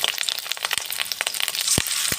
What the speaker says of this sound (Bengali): তেলটাও গরম বসিয়ে দিয়েছি। এবার দেখো, আমি ভেজে নিচ্ছি।